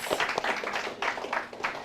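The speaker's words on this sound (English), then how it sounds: "Round of applause for our JavaScript friends" Brief burst of audience applause at a tech-community announcement event honoring JavaScript developers: scattered claps rising quickly, fairly close and moderately loud, lasting under two seconds.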